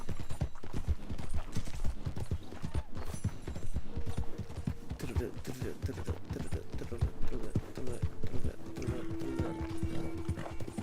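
Rapid clip-clopping horse hooves from an online-mode video game, steady and busy throughout, with a brief whinny-like tone and someone talking over parts of it.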